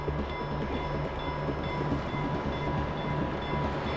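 Northbound North Rail Express freight train arriving from Oslo: a continuous heavy rumble and steady rolling drone with faint tonal squeal, loud and close, no voices.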